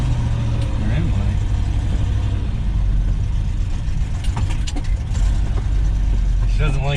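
A 1973 Ford F-250 with a carburetor and standard transmission idles loudly and close, a steady low rumble running on its idle jets, with a voice speaking over it.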